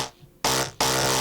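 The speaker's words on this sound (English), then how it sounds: "I found this really great saw kind of sound from the Magnaguards staff" A Star Wars Magnaguard electrostaff sample: after a faint start, two loud, buzzing, saw-like bursts follow one after another, each lasting about a third of a second.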